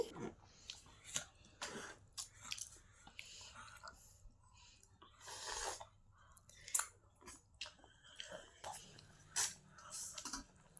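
Children eating puri and dal at home, with soft, close chewing and wet mouthing sounds in irregular bursts, some crunchy bites, under low household background.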